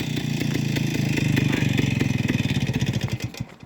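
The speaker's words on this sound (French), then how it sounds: "Ah si, une bonne vieille moto d'époque" A vintage 1953 Peugeot 125 Type 55 motorcycle engine runs nearby with a steady, rapid single-cylinder putter that rises slightly, then slows into separate beats and fades out as it shuts off.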